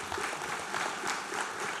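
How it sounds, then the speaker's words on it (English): An audience applauding members of the Joint Protective Services at a housing distribution ceremony, a brief, moderately distant burst of clapping that stays even throughout. "I want us to give them a round of applause"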